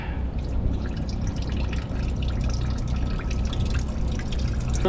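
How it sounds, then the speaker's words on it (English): Fluid draining from the opened drain on a JCB telehandler during a service, a steady splattering trickle and dribble running continuously at close range without talking. "We're gonna pull this, we're gonna open up the drain."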